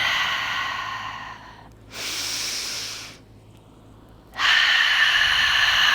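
Slow breathing during a yoga class at a vineyard, alternating long airy breaths and gentle exhales, close and steady, with no talking.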